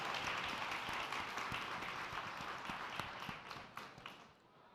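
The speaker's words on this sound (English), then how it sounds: "Please give a last round of applause for these amazing ladies." Full audience applause closing a business panel on government consulting, a thick wash of clapping that stays strong then tapers off near the end, no speech over it.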